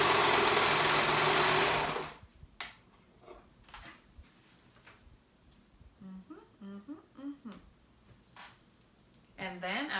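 A sewing machine stitches jacket shoulder seams together in a loud, steady two-second burst up close, then stops; someone talks afterward over quiet handling sounds.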